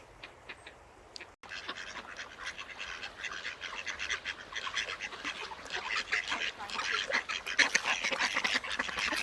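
A group of ducks quacks continuously in shallow water, a busy overlapping chorus of calls that grows louder and denser, heard outdoors at moderate distance.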